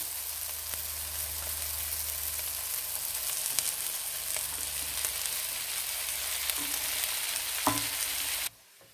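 Julienned chicken breast and vegetables sizzle steadily in a pan, with a few scraping stirs and light knocks before the frying sound cuts off abruptly.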